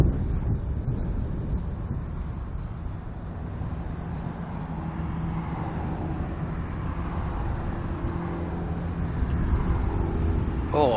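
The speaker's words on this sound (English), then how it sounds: "Oh, so much wind." Strong wind at an airport, a dense, steady low roar rushing across the microphone throughout, swelling slightly near the end.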